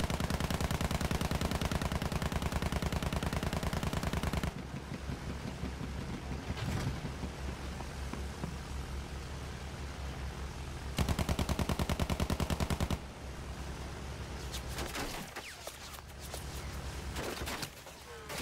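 Battlefield 1 gunfire: bursts of rapid machine-gun fire and shots crackle over a rushing, sea-like background, with loud sustained stretches broken by abrupt pauses and quieter scattered shots.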